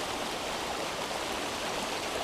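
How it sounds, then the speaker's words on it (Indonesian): Murky river water, running high after rain, pours by in a constant nearby roar of flow, even in level throughout, with nobody talking. "kita bisa melihat air sungai yang mengalir ini"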